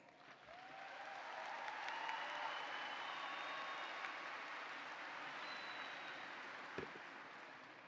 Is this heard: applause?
yes